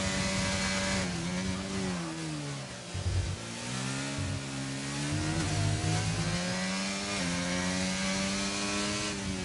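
A Formula 1 car from a racing video game on a timed lap at the Italian Grand Prix, its high engine note rising and dropping through gear changes and braking for chicanes, loud and continuous with no talk.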